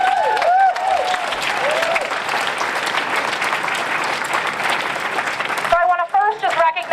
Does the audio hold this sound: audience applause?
yes